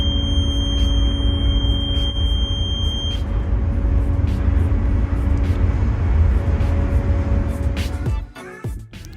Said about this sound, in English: So I'm using the smoke detector spray to activate the alarm.